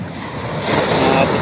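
Large ocean waves during a typhoon in Samar: a loud, continuous roar of surf that swells toward the end, mixed with heavy wind buffeting the microphone.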